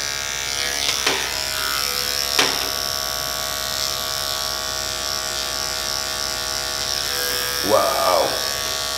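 Electric barber clippers with a detachable blade buzz steadily and close up while trimming hair around the ear for a 360 waves haircut, with brief clicks and a short higher tone near the end.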